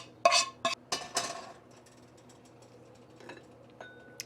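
Peanut sauce is scraped and scooped out of a pan with a utensil, making a few sharp metallic clinks and scrapes in the first second and a half, followed by quieter faint clatter.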